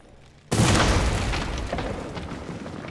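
A sudden, heavy explosion in The Witcher 2 near Lavalette Castle bursts in loudly after a quiet moment, then rolls on as a dense, slowly fading roar.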